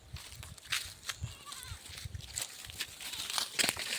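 A goat bleats a few times on a farm near a pond, short wavering calls mixed with footsteps and rustling close by.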